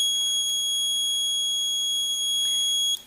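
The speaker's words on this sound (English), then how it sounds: "If your buzzer sounds, that's great, it means you've made a circuit." A small electronic buzzer powered through a Play-Doh squishy circuit gives a steady, high-pitched continuous tone that holds clearly for about three seconds and then cuts off abruptly.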